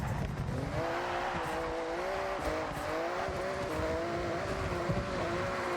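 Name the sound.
Porsche 911 racing a lap in Forza Horizon 6 video game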